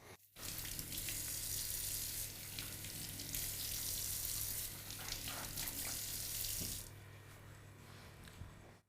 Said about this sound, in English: we take the lemons and wash them thoroughly with hot water